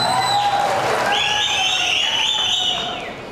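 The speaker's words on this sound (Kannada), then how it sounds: "ಅವರು ಚಪ್ಪಾಳೆ ಮುಖಾಂತರ ಅಭಿನಂದನೆ ಸಲ್ಲಿಸ್ತಾರೆ." An audience at a Congress political rally in Chikkaballapur claps in a steady, dense burst, with whistles shrilling over the crowd before the noise fades out.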